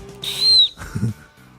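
A person whistles one loud, high rising-and-falling note at close range, briefly, then a short lower whistled tone, with no talking around it.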